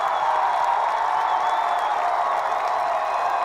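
High school football crowd at an Eagle Pass Eagles versus Boerne Champion Chargers game, a steady roar of cheering and clapping from Chargers fans filling the stands without a break.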